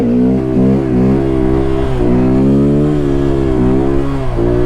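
A motorcycle engine revving during wheelies on a cold day, a loud close drone whose pitch climbs and falls in repeated surges as the throttle opens and closes.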